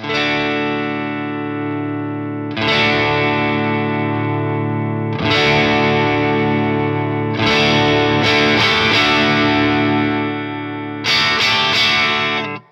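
An electric guitar played through an Origin Effects Revival Drive pedal, heard alone in loud, sustained distorted chords that ring for a few seconds each, then are broken off by fresh strums in an uneven rhythm.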